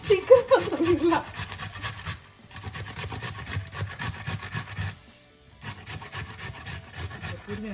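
Carrots rubbed over a hand grater for halwa, steady rasping strokes in bursts with two short pauses, close and fairly loud, with a voice faintly in the background.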